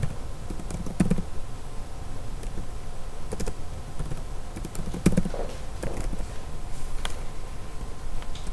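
Computer keyboard typing an IP address into a web browser, with irregular bursts of close key taps over low room noise.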